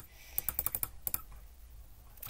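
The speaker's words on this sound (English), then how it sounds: "I'm clicking. You can probably hear me clicking." Rapid mouse clicks during a laggy Roblox tower-defense match, a quick burst of about six close, sharp clicks followed by a pause and two more, then quiet room tone.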